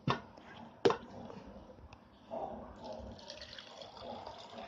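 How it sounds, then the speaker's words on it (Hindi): Water is poured into two jars, a splashy filling sound after a couple of sharp knocks, running on steadily and close by. "दोनों जार्स में हम पानी डालेंगे।"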